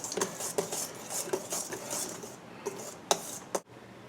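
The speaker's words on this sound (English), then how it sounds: "Now whisk that all together and set it aside." Baking soda and baking powder whisked together in a bowl, giving a run of light metallic clinks and scrapes with a few sharper taps near the end, close and fairly quiet, no talking.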